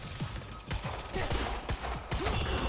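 Rapid gunfire bursts from a firefight in Quantum Break, loud and close, with several sharp volleys and shots overlapping in quick succession and no talking.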